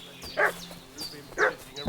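A dog barks in the medieval village of Kingdom Come: Deliverance 2, giving two separate short bursts of yips about a second apart, moderately close, with faint ambient game sound between them.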